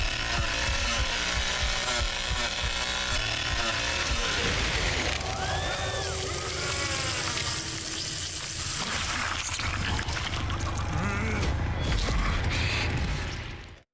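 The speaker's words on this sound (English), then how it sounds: "Leatherface just plunging his chainsaw into the chest cavity of one of the victims" Leatherface's chainsaw in the Texas Chainsaw Massacre video game, plunged into a victim's chest during an execution, a loud, harsh buzzing roar with grinding, sizzling texture that rises and wavers before cutting off abruptly.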